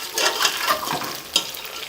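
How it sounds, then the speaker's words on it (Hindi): Whole coriander seeds and fennel seeds frying in a pan, a soft steady crackle with a few light stirring scrapes and one sharper clink near the end, alone without talk. "सिर्फ 2 से 3 मिनट के लिए इनको फ्राई करेंगे।"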